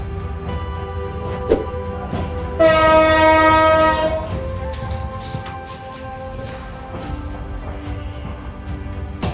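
Sonar Bangla Express departing platform 8 at Chattogram railway station, a loud sustained train horn blast standing out over a steady rumble of rolling wagons and station ambience, then fading back to the running train.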